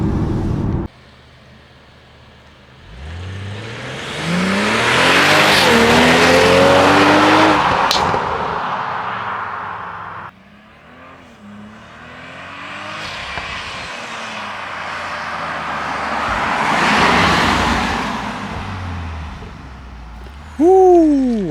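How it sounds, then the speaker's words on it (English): A 2023 BMW X3 M40i on back roads accelerates hard, engine rising through revs twice with a gear change between, ending in a loud, sharp exhaust backfire pop near the close. "That thing popped. That was a huge backfire that came out of that thing."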